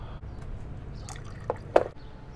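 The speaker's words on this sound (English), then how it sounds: "the last for the draining process is this hose for the reservoir" Coolant draining from the reservoir hose of a Honda VFR800 motorcycle, heard as a few soft drips and liquid squishes, one sharper splash near the end, over a low steady background hum.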